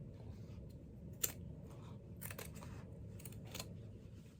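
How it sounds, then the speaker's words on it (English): Scissors snip apart a seam on old denim jeans, giving several quiet, close, crisp cuts spaced irregularly over a low background hum. "So I'm going to cut that seam apart."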